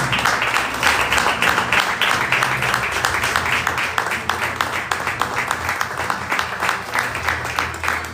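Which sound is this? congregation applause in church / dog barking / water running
congregation applause in church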